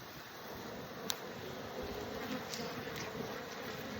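Honey bees buzzing steadily around an open hive during a fall inspection of the bottom brood box, a dense continuous hum with a few faint clicks, fairly quiet and close.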